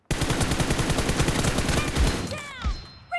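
Rapid automatic gunfire in a PUBG Mobile team deathmatch: a dense, loud stream of shots for about two seconds, then a few scattered shots and ringing tails.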